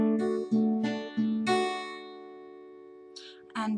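Several finger-picked guitar notes sound in quick succession, one left to ring and fade, followed by light rustling or breathy sounds near the end.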